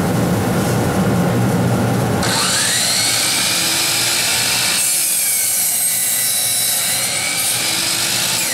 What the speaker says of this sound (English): I'm just going to go ahead and cut from here and then have all the component parts of the different pieces of wood done